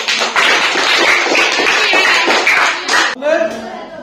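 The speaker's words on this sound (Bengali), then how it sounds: "সবাই হাততালি দাও।" A classroom of students in an eighth-grade science lesson claps together, a dense, loud patter of many hands lasting about three seconds, then a voice speaks.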